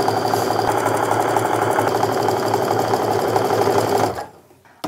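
Sewing machine stitching quilt fabric strips with a quarter-inch seam, a steady, close, loud mechanical whir with fast even rhythmic ticking that runs for about four seconds and then abruptly stops.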